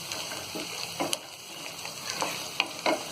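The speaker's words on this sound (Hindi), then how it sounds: "ये डाल देंगे और इसे भी हम थोड़ा सा फ्राई कर लेंगे" Peas frying in a pan for mutton keema pulao, a steady close sizzle broken by a few scraping stirs and light clinks, with no voices.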